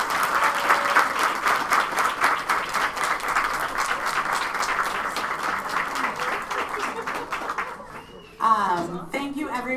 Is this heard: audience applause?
yes